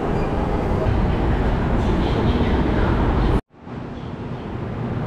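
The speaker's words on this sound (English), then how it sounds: "I think I've been lucky again to get this Line 11 train" A Shanghai Metro Line 11 train rumbles loudly with a deep, steady roar, cuts to silence for an instant, then resumes at a somewhat lower level.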